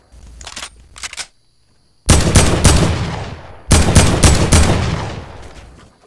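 Fortnite gunfire, with a few quick shots followed by two loud, dense bursts of automatic fire close by, each ringing out and fading, and a short silence between the volleys.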